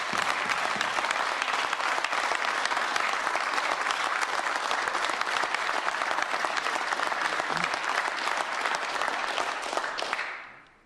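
Sustained, dense applause from a large audience at the presentation of the 2026 Saskatchewan provincial budget, steady and loud for about ten seconds before fading out at the end.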